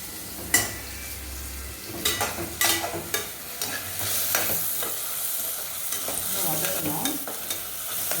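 Tomatoes sauté in a pan for spicy South Indian mutton varuval, a steady close sizzle broken by repeated scraping strokes of a spoon through the thick mixture, with no talking.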